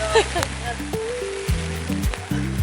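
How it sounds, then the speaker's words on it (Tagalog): Heavy rain pours in Seoul, South Korea, as a steady hiss of falling water under a tonal musical background. "Lakas ng ulan."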